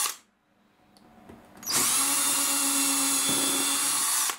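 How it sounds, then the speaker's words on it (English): After a quiet lead-in with a few clicks, a power drill starts up and whines loud and steady at close range, drilling a hole beside model railway track. "you just drill a hole by your track"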